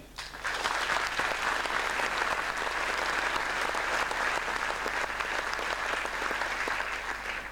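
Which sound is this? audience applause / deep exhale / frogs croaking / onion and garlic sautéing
audience applause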